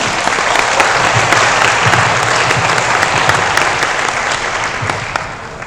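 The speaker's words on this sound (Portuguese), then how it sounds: "Aplausos para o professor Rafael." A hall audience at an accounting-course conference gives a professor loud, sustained applause of dense, steady clapping, tapering slightly toward the end with no talking over it.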